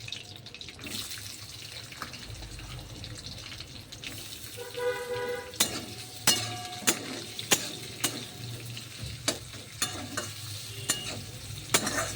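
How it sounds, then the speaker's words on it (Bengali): Fish fries in a pan with a soft, steady sizzle, and sharp scraping knocks of a utensil against the pan come at a regular pace in the second half. "ভেজে নিয়ে মাছটাকে ভাজছি"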